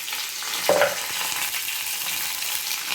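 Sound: mustard seeds and curry leaves sizzling in oil

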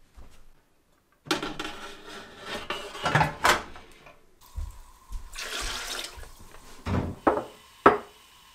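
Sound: pressure canner being set on the stove

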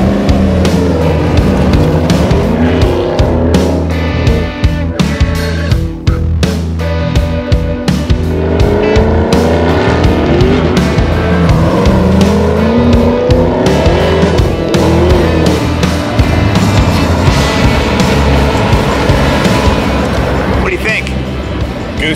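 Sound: car driving and accelerating

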